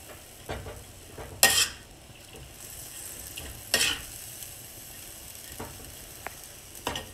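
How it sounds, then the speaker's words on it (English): Chicken chow mein frying in a pan is stirred and flipped. Scraping and clattering strokes break out every few seconds over a low, steady sizzle, with no voices. "you want to just kind of flip the whole thing over and mix it up a little bit"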